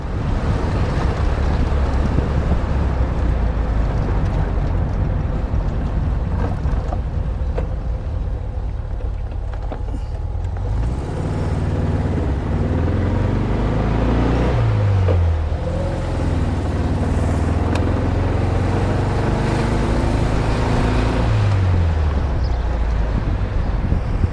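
A 1979 VW Super Beetle convertible drives along roads, its engine droning steadily beneath heavy wind buffeting. Pitch sweeps rise and fall as it pulls through the gears, with no voices.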